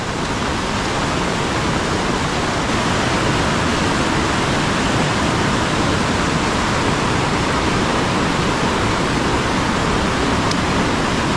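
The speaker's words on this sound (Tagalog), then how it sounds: "Malakas naman yung tubig, oh." Strong, fast floodwater rushing through a swollen rural creek during rainy weather, a loud steady broadband roar that stays continuous and close for the whole stretch with no voices.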